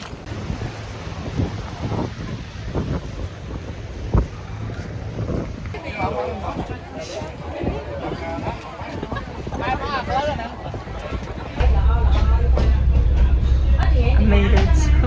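A passenger boat moves along a jungle river, heard from the open top deck. There is steady wind rush and engine drone, and it grows much louder near the end, with people talking nearby.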